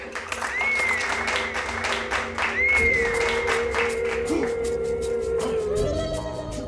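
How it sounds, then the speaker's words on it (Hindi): Studio audience applause in a Hindi TV drama scene, dense clapping running steadily throughout at moderate level, mixed with background music with tonal sweeps and some talk underneath. "तालियां।"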